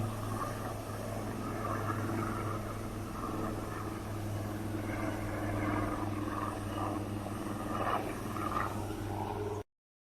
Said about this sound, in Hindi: आर्मी का हेलीकॉप्टर